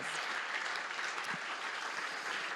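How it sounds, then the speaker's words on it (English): A church congregation at a Sunday service claps steadily and warmly throughout, a dense, even wash of applause with no voices standing out. "So you deserve a great round of applause."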